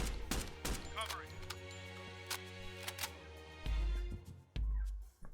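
Sharp bursts of gunfire crack out in quick clusters with heavy low booms, mixed with game-like sound effects and brief background noise, in the tactical game Door Kickers 2.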